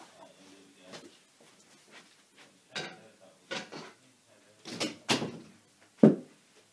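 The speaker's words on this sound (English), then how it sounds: "So, we have to shut the door." A door being shut indoors: scattered soft knocks and handling clatter lead up to a single firm thump near the end.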